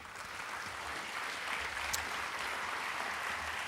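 Applause from a crowd at an awards gala ceremony, a dense, steady patter of clapping heard at moderate distance with no voices.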